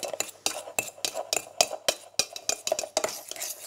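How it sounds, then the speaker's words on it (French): Fork mashing boiled potatoes in a bowl for soft potato galettes, with close, rapid, rhythmic scraping and clinking strokes against the bowl and no voices. "Et ensuite, avec une fourchette, on va l'écraser."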